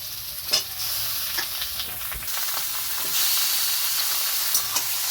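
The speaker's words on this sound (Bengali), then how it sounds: "এবার আমি দই মাখানো মাংসটা দিয়ে দেব।" Yogurt-marinated chicken hitting a pan of browned fried onion and capsicum, giving a loud, continuous close-up sizzle and hiss that swells partway through, with scattered crackles and scraping stirs.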